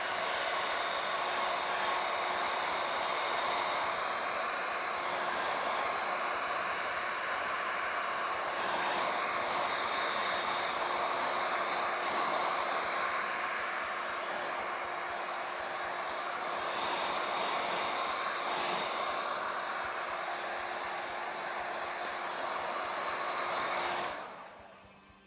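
A dryer blows a steady, loud whooshing roar over freshly painted teeth on a cosplay chainsword prop for nearly the whole stretch, then abruptly cuts off at the end, with no talking.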